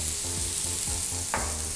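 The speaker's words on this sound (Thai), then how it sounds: "คราวนี้ก็จะผัดด้วยไฟต่ำๆนะครับจนทุกอย่างเนี่ย สุกดี" Mushrooms, carrot and broccoli stir-fried in oil with coriander root over low heat, a close continuous sizzle with rhythmic scraping strokes of a spatula against the pan, no voices.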